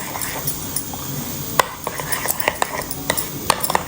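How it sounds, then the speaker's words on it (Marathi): Shrikhand with milk and saffron being stirred with a spoon in a bowl: a steady soft scraping and swishing, broken by brief clinks of metal on the dish, close and moderately loud with no talking. "इथे दूध आणि केसर आहे हे आपण टाकणार आहोत छान कलर येईल हे आपण मिक्स करून देऊ थोडंसं कसं अजून स्मूथ होतं श्रीखंड"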